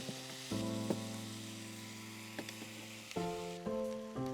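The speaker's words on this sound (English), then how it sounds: "So we've got our onions, our red capsicum and tomatoes in the pan." Onions, red capsicum and tomatoes fry in a pan at a camp cooking spot, a steady soft sizzle with a low tonal hum running under it, close and without speech.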